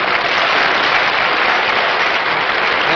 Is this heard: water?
no